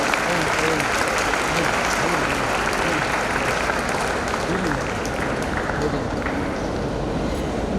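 Applause from an audience at a dental college graduation day ceremony, a steady dense wash of clapping lasting throughout with some voices mixed in.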